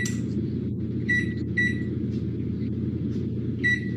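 An oven timer gives short electronic beeps in separated bursts, one beep, then a pair, then another, over a steady low hum of kitchen background noise.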